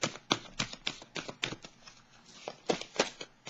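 Tarot cards are cut and riffled by hand, a quick series of crisp papery bursts about every half second, close and quiet, with no voice over them.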